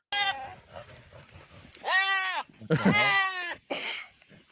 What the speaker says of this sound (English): look at these fucking goats going at it